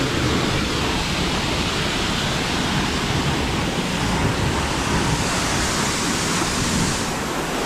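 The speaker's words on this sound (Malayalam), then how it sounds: "മൊത്തത്തിൽ ചെറുതായിട്ട് സോപ്പ് അടിച്ചിട്ട് വെള്ളം അടിച്ചിറക്കാം." A pressure sprayer blasts soap foam onto a car at a car wash in Vancouver, Canada, with a loud, steady hiss of spray that continues unbroken throughout.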